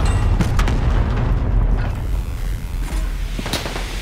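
An explosion in Call of Duty, heard as a loud, deep, rumbling boom with a long low roar that fades out, followed by scattered faint cracks.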